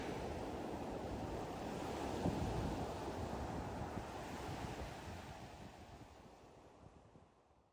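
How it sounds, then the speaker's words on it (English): Waves rolling onto a remote beach on the Dampier Peninsula, a steady roar of surf mixed with low rumbling wind buffeting the microphone, fading slightly toward the end with no talking. "Dampier Peninsula. It's an absolutely stunning beach, and you got it to yourself probably"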